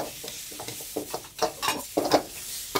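Fried rice tossed and stirred in a heavy Chinese wok at a Chinese restaurant, giving scraping, rustling strokes with light sizzling in irregular bursts, close and fairly quiet, with no talking.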